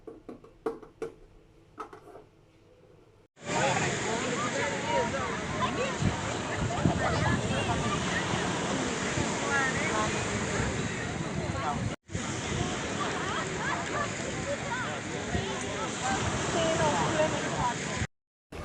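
Wind and sea waves wash steadily over the microphone on the beach at Leptokarya, Greece, a loud, continuous broadband rush after a few quiet seconds, broken by one brief dropout.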